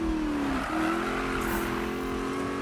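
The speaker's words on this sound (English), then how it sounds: "Let's try to do another drift right now." Race car in the Need for Speed game sliding through a drift, a steady loud engine drone that dips briefly and resumes with a faint tire hiss, alone without talk.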